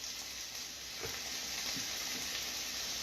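Risotto sizzles gently in a pan while being stirred, a faint steady hiss with a few soft scraping strokes of the spoon.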